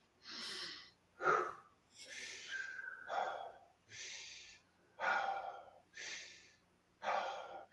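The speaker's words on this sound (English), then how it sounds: "I'm going to show you an example of how to breathe" Fast, deep breathwork breathing, about eight forceful breaths in steady rhythm, each a close, loud rush of air with audible inhale and exhale and very short pauses between.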